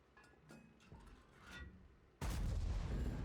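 A tank gun in World of Tanks fires one loud, sudden blast that rumbles on heavily after faint background game sounds.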